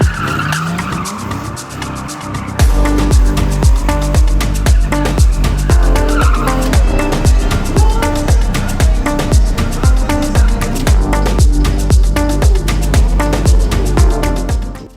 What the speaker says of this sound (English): drift performances by the Torq organizers